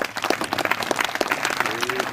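Brief burst of dense crowd clapping at a felicitation ceremony for a newly elected MLA in Chhattisgarh, close and lively, with a faint voice in the background.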